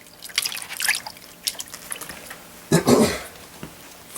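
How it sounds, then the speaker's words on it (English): Hand swishing and dripping in a bucket of water after mixing rock-making material, with small splashes and trickles up close, one louder slosh near the end. "once you get that done, you just rinse your hand off in your other bucket"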